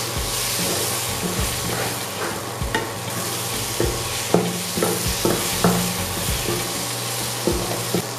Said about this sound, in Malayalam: ഇനി ഒന്ന് നല്ല ഉണങ്ങി ഇളക്കി ചേർത്ത് കൊടുക്കാവുന്നതാണ്